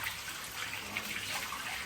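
Water runs from a kitchen tap as it fills a container, a faint, steady hiss and splash, continuous and alone.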